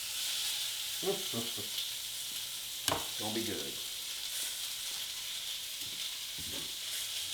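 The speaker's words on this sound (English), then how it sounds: "Oh, you hear that sizzle?" Steady bright sizzling of food frying in a pan for Cajun shrimp and sausage jambalaya, continuous and close, with a voice speaking briefly over it and a few clinks.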